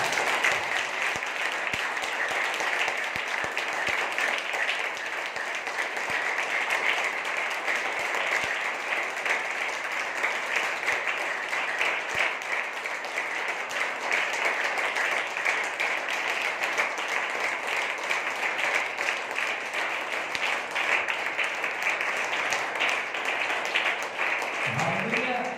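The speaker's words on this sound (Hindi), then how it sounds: "परमेश्वर के लिए ताली बजाइए।" Sustained applause from a church congregation during a sermon, a dense, steady roar of many hands clapping for God that carries on without a break, with voices mixed in under it.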